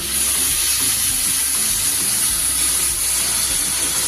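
A little water poured into a pan of frying brinjal, producing a loud, steady hiss and sizzle close up with faint stirring underneath.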